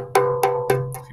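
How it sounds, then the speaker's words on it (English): A djembe struck close to the edge makes four quick, bright, ringing taps about a quarter second apart, each with a sharp attack and short decay, heard close up and alone. "If you play close to the edge, it sounds like this."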